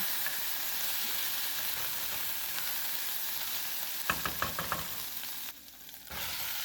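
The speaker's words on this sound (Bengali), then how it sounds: "কড়াই বসিয়ে একটুখানি তেল দিয়ে তার মধ্যে জিরে ফোড়ন তেজপাতা শুকনো লঙ্কা দিয়ে দিয়েছি" Cumin seeds, bay leaf and dried red chili temper in a little hot oil in a wok, giving a steady, fairly quiet sizzle. Brief clattering stirring strokes come near the end, and no one speaks.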